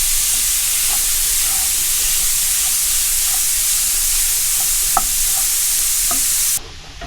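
Minced meat sizzles in a pan, a loud, steady hiss of frying with a few soft clicks and taps, cutting off abruptly near the end to quieter room noise.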